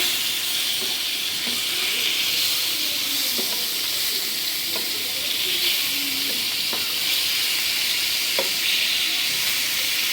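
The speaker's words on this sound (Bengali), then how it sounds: "মাছগুলোর দুই পাশ ফ্রাই হয়ে গেছে" Pieces of rohu fish fry in hot oil in a pan, giving a steady, loud sizzle and hiss throughout with occasional faint stirring or scraping knocks, and no talking.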